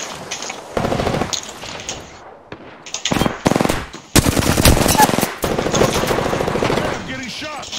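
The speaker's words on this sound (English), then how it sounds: "Opening fire on the enemy." Bursts of automatic machine-gun fire and single gunshots in a video game shooter, loud and repeated in clusters with short gaps between volleys, while a voice talks under and between the shots.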